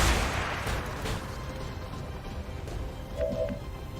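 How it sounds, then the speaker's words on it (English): A grenade launches and explodes in XCOM 2, giving a heavy, booming blast at the start that decays into rumbling debris and scattered crackles, followed by a brief tonal game effect near the end. "Should we actually fire a grenade up there as well?"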